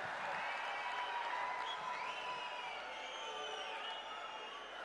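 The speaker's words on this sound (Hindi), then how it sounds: "जोरदार तालियों से स्वागत आदरणीय प्रधानमंत्री जी का।" A large crowd at a Jammu election rally for Prime Minister Modi applauds in a continuous, distant wash of clapping and cheering that stays even throughout, with whistle-like tones rising above it.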